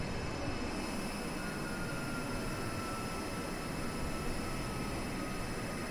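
HondaJet landing gear lowering in Microsoft Flight Simulator, heard as a steady broad mechanical whir with faint whining tones over a constant engine drone, continuous and moderately loud, with no talk.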